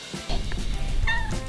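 A cat meows in a short, bright call near the end, close and clear over a low steady background hum.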